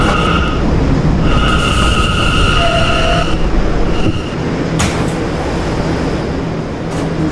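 A SOAC and R179 five-car subway train in the Roblox game PTA Subway on the Fifth Av Lines runs steadily with a loud, continuous rumble, with tonal whines and brief squeals early on and a sharp click midway, and no talking.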